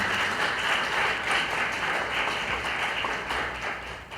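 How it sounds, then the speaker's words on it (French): Ladies and gentlemen in an audience give steady, sustained applause, a thick continuous wash of clapping at a fairly loud, even level from start to finish. "On applaudit, s'il vous plaît, mesdames et messieurs."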